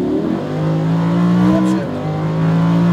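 A Lamborghini Huracan at full throttle on a race track, its engine note loud and close, climbing steadily in pitch with a brief dip near the middle, no talk over it.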